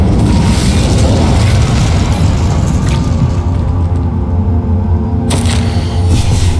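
A fire spell cast in the Hogwarts Legacy video game, heard as a loud, continuous booming roar with dense low rumble and crackling bursts, sustained throughout with no talking.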